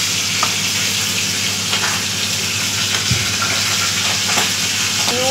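Chopped ingredients stirred into a sizzling pan of oil while making a chira (flattened rice) paratha, a steady close fry hiss throughout with a few scraping stirs and light clinks.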